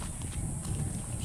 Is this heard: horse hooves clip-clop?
yes